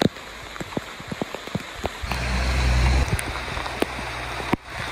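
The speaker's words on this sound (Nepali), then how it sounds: "बिच बाटोमा चाहिँ पानीले खिचिरहेछ" Steady rain patters down with scattered drop hits, and a low rumbling swell through the middle; no voices.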